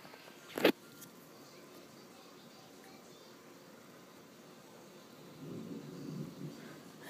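During a severe thunderstorm with flooding rains, a soft, distant rumble of thunder swells faintly near the end. It follows a sharp click and a stretch of quiet background hiss.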